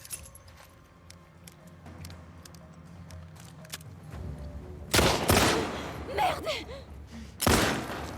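Gunfire in The Last of Us Part II: quiet game ambience gives way to two loud broadband bursts of shots, separated by a brief stretch of clatter, sounding close and harsh.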